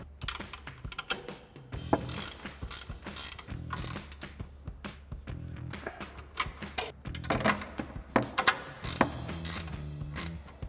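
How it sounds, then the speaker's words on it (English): A 15mm ratcheting wrench tightening the three top mounting nuts of an adjustable coil-over on a Toyota Tacoma, giving rapid close clicking runs with clanks and metal knocks throughout. "we can tighten down our 3 mounting nuts up top with our 15mm ratcheting wrench"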